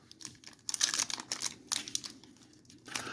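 Foil wrapper of a Spider-Man Magic: The Gathering collector booster pack crinkles and tears up close in a busy burst of rustling with no voices.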